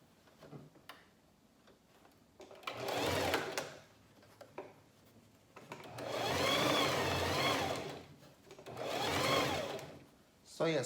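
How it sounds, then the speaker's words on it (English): A sewing machine stitching a tulle skirt together, running in three whirring bursts of a few seconds each with quiet pauses between, near and fairly loud, with faint talk in the gaps. "now we're gonna sew the skirt together"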